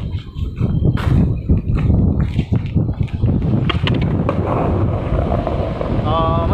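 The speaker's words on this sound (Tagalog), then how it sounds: "grabe, lamig lakas ng hangin." Strong cold wind buffets the microphone outdoors, a loud gusty roar with irregular thumps and rustles throughout, while a person speaks intermittently under it.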